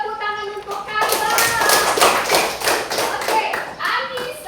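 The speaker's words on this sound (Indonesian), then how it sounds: "Tepuk tangan untuk Carla." A group of children clap their hands for a classmate in a classroom, a steady run of sharp overlapping claps lasting several seconds, close and fairly loud, with small voices mixed in.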